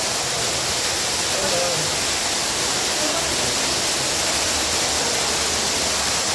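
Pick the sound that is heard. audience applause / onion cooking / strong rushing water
strong rushing water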